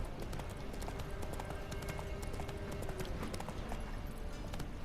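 Roach, Geralt's horse in the Witcher 3, gallops in a fast, dense, unbroken run of hoofbeats under steady game ambience.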